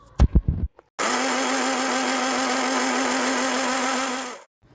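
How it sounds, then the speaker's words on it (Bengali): A kitchen blender whirs steadily at high speed for several seconds while blending burger sauce with lemon juice and oil, loud and close, starting abruptly after a few brief knocks and cutting off at the end. "এখন আবার ব্লেন্ড করে নিব"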